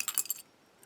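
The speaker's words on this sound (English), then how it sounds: "Yeah, here are the Asec keys." Asec padlock keys jangling close up, a short burst of bright metallic clinks lasting under half a second, then near silence with one faint tick.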